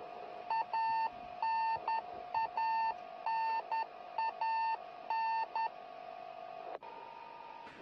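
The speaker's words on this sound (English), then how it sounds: "The beeping sound you hear is a radio beacon on the Soyuz spacecraft" The radio beacon on a landing Soyuz MS-17 spacecraft beeps in a steady, repeating pattern of short electronic tones in clusters, heard over a faint radio hiss with no speech.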